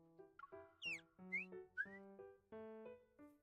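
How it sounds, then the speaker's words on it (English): A water-filled bird whistle in a video game is played in a series of short, clear whistled notes at changing pitches, with a few warbling chirps like birdsong, quiet and close with no talk. "He adjusts the water level in the bird whistle several times. Sounds of various pitches are produced."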